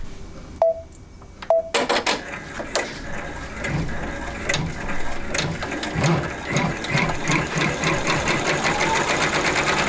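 An embroidery sewing machine stitches a vintage butterfly quilt block, starting after a few short beeps and then running in a steady, rapid mechanical chatter of needle strokes, close and loud with no talk.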